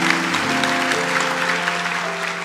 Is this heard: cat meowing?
no